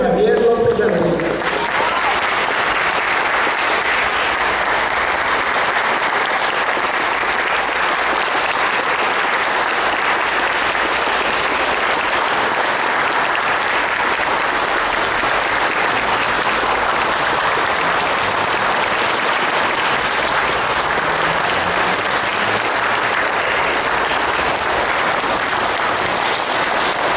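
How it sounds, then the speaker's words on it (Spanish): An audience gives sustained, loud applause at a book presentation in Sinaloa, a dense, steady roar of many hands clapping for nearly half a minute, close and continuous. "dándole un reconocimiento con un fuerte aplauso"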